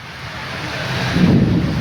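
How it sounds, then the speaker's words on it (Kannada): Heavy rain pours with gusting wind around a village home, a steady broadband roar that swells louder toward the end, with no clear thunderclap standing out. "ಮಳಿ ಗಾಳಿ ಎಲ್ಲ ಸುತ್ಕೊಂಡು"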